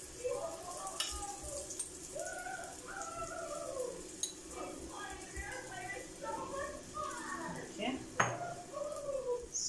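Chapati cooking in a pan on a kitchen stove, light clinks and scrapes of a utensil against the pan under someone talking throughout, with a few sharper metallic taps.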